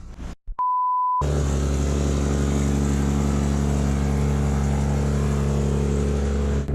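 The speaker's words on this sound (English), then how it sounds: "We're unloading and driving onto the dyno." A Nissan drift car drives onto a dyno. The engine gives a loud, steady, close drone after a short beep and brief silence.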